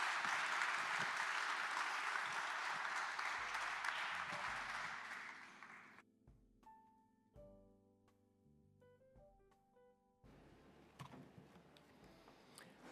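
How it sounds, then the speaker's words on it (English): Audience applause at a live open source awards event, dense clapping for about six seconds that fades, followed by quieter background sounds. "And it's fantastic that you got a round of applause there, Thibaut."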